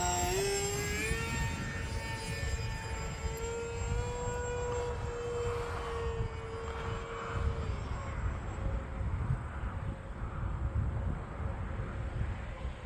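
A HobbyZone Aeroscout RC airplane flies in gusty wind, its small motor whining at a steady pitch that sags and then fades as it moves away, with wind rushing across the microphone throughout.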